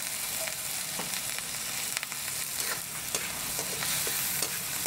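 Bagoong alamang, a shrimp paste, stirred in a hot pan: steady close sizzling with scattered scraping clicks of the utensil, no voices.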